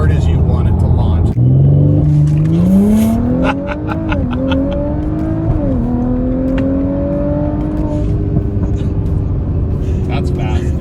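Tuned Audi B9 S4 launching and accelerating hard: a loud engine roar climbs steeply in pitch through upshifts, with a few brief dips between gears, then settles into a sustained high drone.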